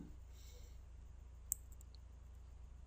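A single sharp computer mouse click on a software icon, one brief crisp tick midway over a quiet low hum.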